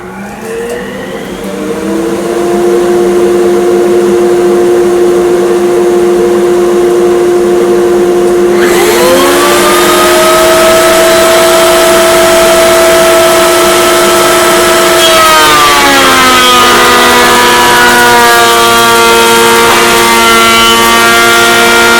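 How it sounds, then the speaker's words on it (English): A workshop dust collector spins up with a rising whine and settles into a loud, steady roar, joined by a sharper, harsher surge when boards are fed through a planer and machined. "Turn on the dust collector."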